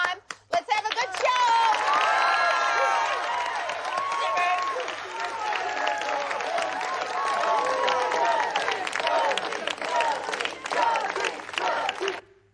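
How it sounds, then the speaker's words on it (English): A studio audience claps and cheers at the start of a show, dense sustained applause mixed with whoops and crowd voices throughout, loud and close, easing slightly near the end. "I want you to clap real loud,"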